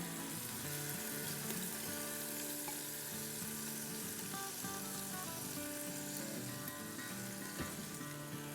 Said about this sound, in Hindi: 2-3 मिनट तक अच्छे से भूनेंगे।